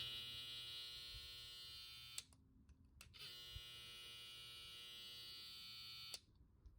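A TPOB hair trimmer motor runs at 7,200 RPM with a close, steady high-pitched buzz, switching off and on twice with sharp clicks before cutting out at the end.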